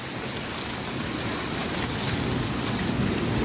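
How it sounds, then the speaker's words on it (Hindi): Heavy rain pours steadily in a dense, continuous hiss, with a low rumble of thunder blending into the downpour. "बिजली कड़क रही है, बहुत ज़ोरदार बारिश हो रही है।"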